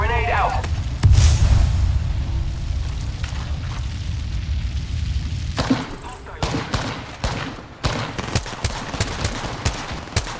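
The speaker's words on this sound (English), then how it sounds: "Thermite grenade out" A thermite grenade goes off in Apex Legends, a heavy burst followed by sustained crackling gunfire and rapid popping shots amid a loud battle, with talk and voices mixed in.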